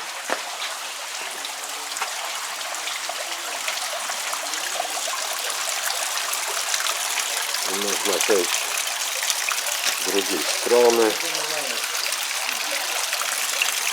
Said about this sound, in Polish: Tutaj tak kapie wszystko ładnie.